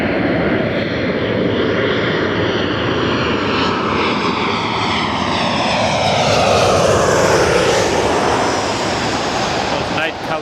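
A Southwest airliner from Dallas Love Field comes in to land at Los Angeles International Airport, its engines roaring loud and close in a steady, continuous rush that swells and sweeps past, alone with no voices.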